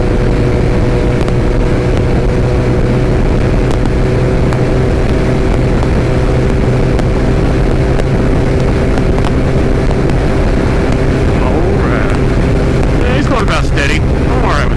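A motorcycle cruises at night on New Year's Day, its engine drone steady and loud under constant wind buffeting the microphone, with a rider speaking at times.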